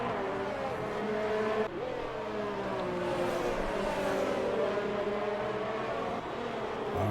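Race cars in an F1 racing video game circling the Abu Dhabi track, a dense continuous roar of layered engine whines with shifting revs and gear changes, loud and close, no talking.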